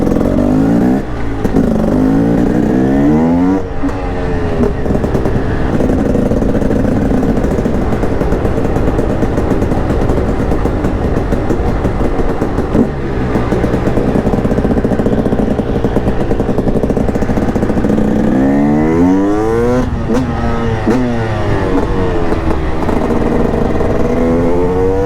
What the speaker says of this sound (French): là c'est la puissance du supermoto